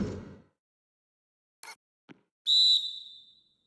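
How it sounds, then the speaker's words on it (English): A referee's whistle blows on a shot in the basketball video game NBA 2K12, giving one sharp shrill blast that fades quickly after two brief clicks. "the whistle blows on the shot"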